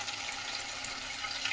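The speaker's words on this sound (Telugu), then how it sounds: "వాటర్ అయితే యాడ్ చేసుకుందాం." Water poured into a pot of mutton and drumstick curry as it cooks, a steady close splashing and hissing pour lasting the whole moment with no voices.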